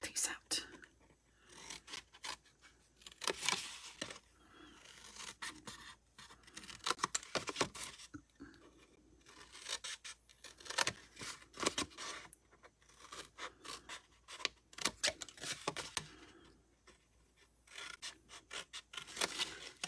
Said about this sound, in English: Now we're going to cut out these 4 corners.